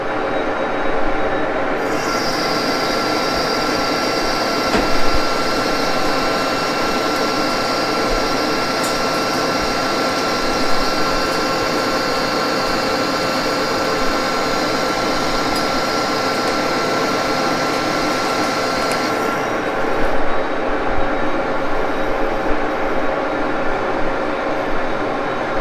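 An engine lathe with a chuck fitted to a D1-6 spindle makes a cut, a loud continuous motor and gear hum with a sustained high cutting whine lasting most of the stretch, then ending, with no talking.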